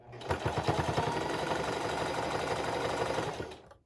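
A sewing machine stitches fabric for a small pet cage pouch, a fast, steady mechanical whirr with rapid needle ticks running close and loud for a few seconds before stopping.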